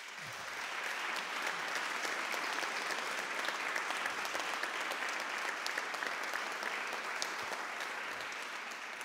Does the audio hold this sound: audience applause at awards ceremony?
yes